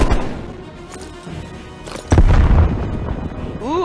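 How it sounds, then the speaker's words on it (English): A grenade blast in Black Ops Cold War hits as a sudden loud boom about halfway through, ringing out over lighter gameplay noise and faint voices before it. "Incoming grenade."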